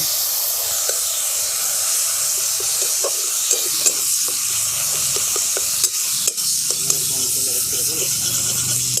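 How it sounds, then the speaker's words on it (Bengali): Ground paste of cumin, ginger, garlic, and green and dry chilies sizzles in the leftover oil from fried tangra fish. A constant close hiss runs under repeated scraping stirs and soft clatter, with no talking. "এই যে মশলাটা বেটে রেখেছিলাম জিরে আদা রসুন কাঁচা লঙ্কা শুকনো লঙ্কা এইটাকে আমি দিয়ে দিচ্ছি"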